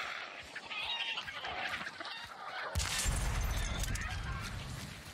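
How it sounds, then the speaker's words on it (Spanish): Chickens cluck and squawk in the video game Hunt: Showdown, a run of agitated clucks that gives way to a louder burst of flapping and rumbling noise partway through. "Cansosa gallina, boludo."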